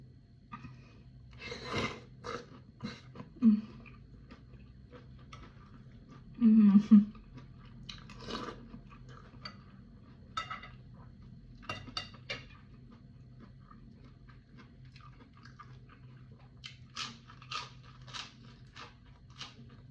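Someone eats large juicy cooked shrimp, with soft wet chewing and occasional crunchy bites scattered among quiet pauses and a louder burst of crunching near the middle.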